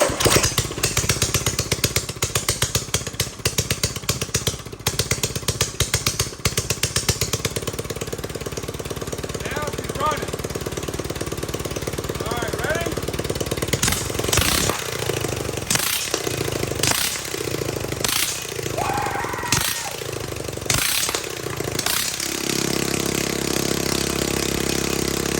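A mini bike engine runs steadily up close, with a rough continuous drone, then a series of sharp revving bursts in the second half before settling into a smoother idle near the end.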